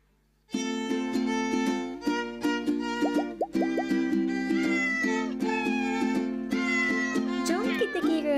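Cat meows sung or mixed into a Malay children's song, rising and falling over a steady, bright musical backing that plays throughout with plucky rhythmic accents.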